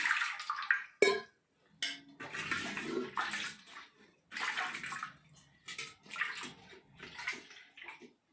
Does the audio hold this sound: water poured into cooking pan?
yes